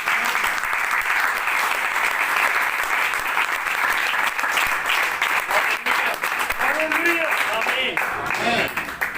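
A church congregation claps loudly and steadily for about nine seconds, a dense continuous applause with brief voices showing up near the end.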